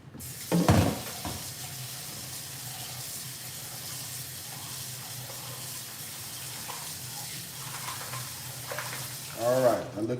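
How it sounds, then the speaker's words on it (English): Something being rinsed under running water at a sink, a steady hiss of flowing water throughout, with brief louder splashes and clatter near the start and end. "let me rinse this off"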